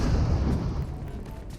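A grenade blast in PUBG Mobile gives a heavy, close boom that rolls off into a fading low rumble, short and alone with no talk.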